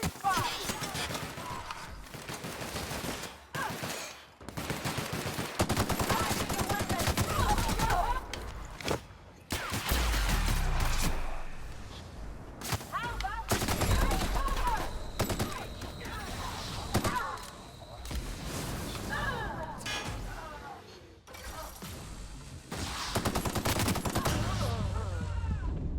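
Bursts of gunfire in The Outer Worlds, loud rapid shots in clusters across a firefight, mixed with mechanical clatter and someone talking over parts of it.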